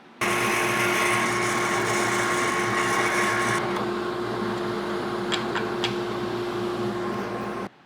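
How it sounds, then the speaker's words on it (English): Power drill boring holes with an 11/64 inch bit into cabinet material for a face frame, a loud steady high-pitched whine that shifts pitch partway through and then runs on before stopping abruptly. "So I've got an 11/64" drill bit. I'm just going to run some holes in my material to hold these little screws"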